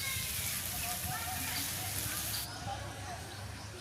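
Spices and vegetables fry in mustard oil in a village kitchen pan, giving a steady crackling, hissing sizzle that drops in brightness partway through.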